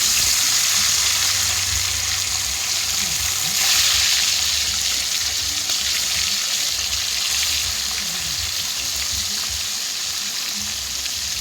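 Parshe fish frying in hot white oil in a heated kadai, giving a steady, dense sizzle that fills the whole stretch at close range, with no talk over it.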